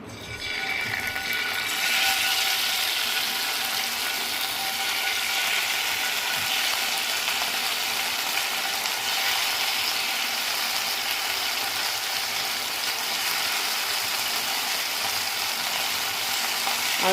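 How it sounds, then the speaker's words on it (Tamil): Masala-coated anchovies (nethili fish) fry in a little oil in an iron pan, producing a loud, unbroken hiss and crackle that holds steady throughout. "இதில் நெத்திலி மீன் ஃப்ரை பண்ண போகிறோம்"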